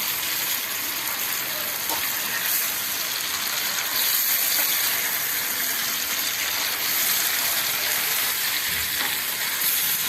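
Gooseberries sizzle and fry in hot oil in a pickle-making pan, a loud, continuous hiss and crackle that holds steady for the whole stretch with no talk.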